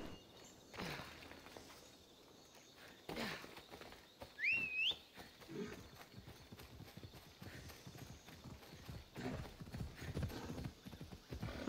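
Horse hooves clip-clopping in Assassin's Creed Odyssey, a rhythmic run of hoofbeats with a short whistle and a whinny partway through, and faint voices now and then.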